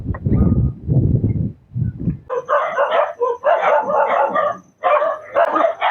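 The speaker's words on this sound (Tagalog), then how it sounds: "nagkakagulo yung mga aso dito mga kabida no" Several dogs bark loudly and close by in repeated bursts, first deeper woofs, then a run of sharper, higher barks with brief pauses between them.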